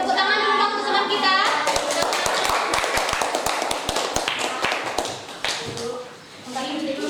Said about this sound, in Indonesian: tepuk tangan dulu dong teman kita